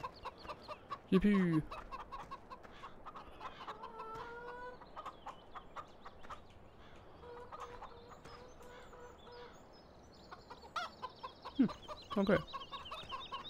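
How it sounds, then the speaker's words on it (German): Farm chickens in Landwirtschafts-Simulator 2017 cluck in scattered, fairly quiet bursts, with a couple of louder squawks near the start and end, while a voice briefly speaks over them. "Hey, hier sind unsere Hühner."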